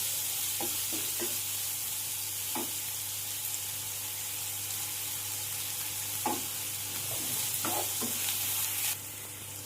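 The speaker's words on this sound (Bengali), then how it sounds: "পেঁয়াজটা যতক্ষণ না লাল হচ্ছে আমি এভাবে নাড়িয়ে নাড়িয়ে ভেজে নেব।" Sliced onions sizzle gently in hot oil while being stirred, a soft continuous frying hiss broken by occasional scraping clicks of the spoon against the pan.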